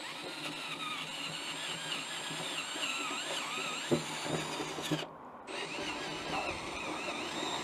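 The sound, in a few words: power drill cutting slowly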